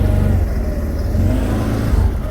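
An Odes ML 850 V-twin ATV backs up slowly in a low gear off-road. It gives a steady, close, throbbing mid-pitched engine hum with no talk.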